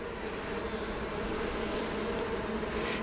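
Honey bees swarm around a hive frame during colony splitting, a steady, dense buzzing hum that stays close and fairly loud throughout, with no voices.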